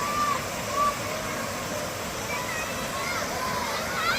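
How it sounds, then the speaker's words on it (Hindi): A mountain waterfall at Chauras in Himachal splashes steadily onto rocks as a broad, continuous rushing wash, with faint bird chirps over the top and no clear break throughout. "तो ये है झरना कह लीजिए, झरने से आता हुआ पत्थरों में गिरता हुआ,"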